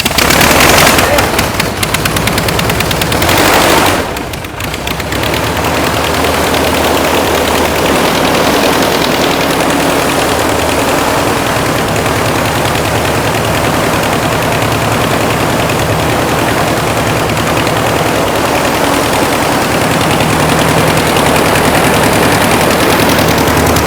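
An aircraft piston engine converted to fuel injection cranks and catches, then settles into a loud, steady, close-up roar with rapid firing pulses, briefly dipping a few seconds in before running on continuously.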